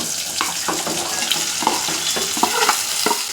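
Carrot, potato and shallots sautéing for sambar produce a steady moderate sizzle with repeated spoon scrapes and stirring taps in the pan.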